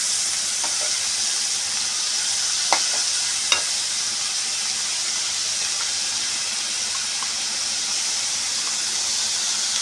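Ginger garlic paste frying with onions in a pan makes a loud, even sizzling hiss throughout, broken by a couple of sharp clicks of a utensil against the pan.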